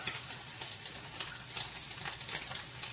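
Steady crackling sizzle of crab cakes frying in hot oil, dense and continuous with small popping bursts throughout.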